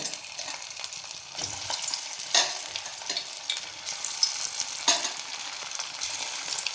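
Soya pakoda batter dropped into hot oil and frying, a steady continuous sizzle with brief louder crackling bursts as pieces go in, close and alone without talk.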